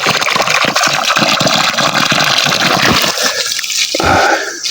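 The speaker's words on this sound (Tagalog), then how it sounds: "Lumakas na ulit ating tubig." Water gushing strongly from an irrigation line onto a small vegetable plot, a loud, close, splashing rush with rhythmic surges that eases and thins near the end.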